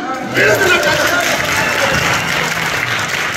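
A congregation at a church service applauds loudly and continuously, a thick wash of clapping hands with crowd murmur mixed in that sounds close and fills the room.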